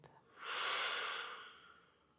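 A slow, soft exhale during gentle yoga breathing, a single long airy breath that swells and then fades over about two seconds, close and quiet with no talking.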